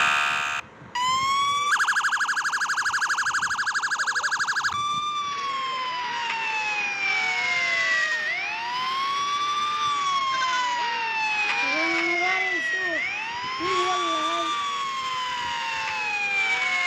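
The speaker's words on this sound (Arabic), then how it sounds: "نروح نروح مع صوت الزمور." A black car's horn plays siren-like tones. A rapid warbling alarm pulse is followed by long, loud rising and falling wails that sweep repeatedly, close and dominant with no talk.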